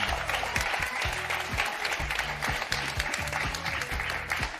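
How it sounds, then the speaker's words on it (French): A French game show studio audience claps steadily and enthusiastically, a dense, continuous round of applause with no voices over it. "Émilie, Henri, applaudissements, félicitations."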